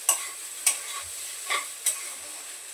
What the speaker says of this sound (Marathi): गॅस फास्ट आहे, फास्ट गॅसवर परतून घेते थोडंसं पटापट